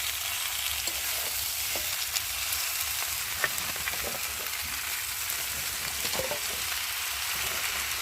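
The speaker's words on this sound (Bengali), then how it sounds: "আর এখন এই যে কেটে রাখা পুঁই শাকগুলোকে দিয়ে ভালো করে কষিয়ে নিই।" Chopped Malabar spinach is stir-fried in a pan for a stem curry, giving a steady, soft sizzle throughout, broken by light scraping and stirring clicks.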